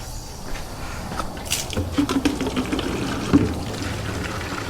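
Water pours and trickles into a container in a swimming pool repair setting, a soft splashing flow with a few brief gurgles and sloshes, moderately close.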